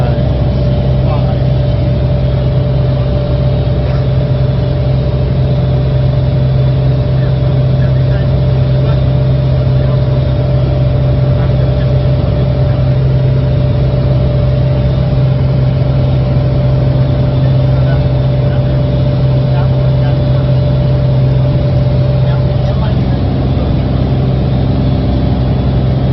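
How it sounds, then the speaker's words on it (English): Steady loud drone of a light aircraft's engine inside the cockpit during an autopilot instrument flight, a constant buzzing hum with strong low tones and no change in pitch, filling the whole stretch. "So a little hard to hear over the engine noise"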